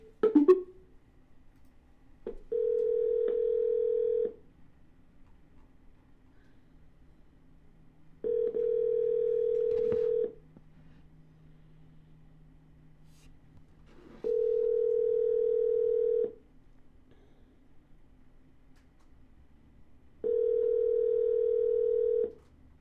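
Four ringback tones on an outgoing telephone call placed after dialing, each a steady electronic tone lasting about two seconds, separated by gaps of roughly four seconds over a faint line hiss, with no talking.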